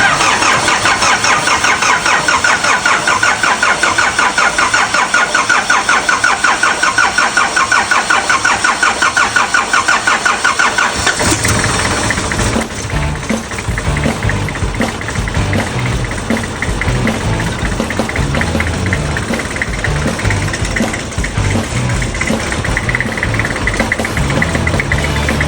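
An old 4x4 vehicle's engine after a top overhaul, cranking loudly and then catching about eleven seconds in, settling into a rough, steady idle close by.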